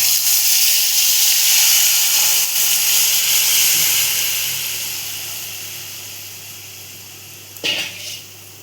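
Buttermilk kadhi is poured into a hot hing tempering, and it gives a loud, steady sizzling hiss that slowly fades, ending with a brief clatter of a utensil.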